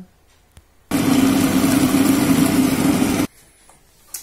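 Stand mixer running at speed 4, beating cookie dough with chocolate chips, a steady loud motor whir with a buzzing hum that starts abruptly, holds for about two seconds, then cuts off.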